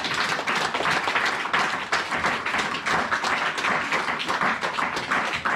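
A church congregation applauds together in dense, sustained clapping with a lively, rhythmic pulse, loud and close, with no speech over it.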